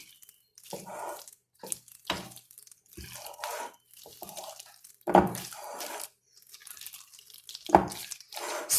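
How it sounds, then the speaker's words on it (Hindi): A lemon-juice dressing for a grilled chicken sandwich is stirred in a bowl, giving wet, irregular squishing and scraping bursts, close and moderately loud, with short pauses between strokes. "अब हम इनको मिक्स कर देंगे।"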